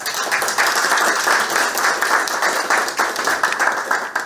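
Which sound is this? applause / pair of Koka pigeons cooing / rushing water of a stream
applause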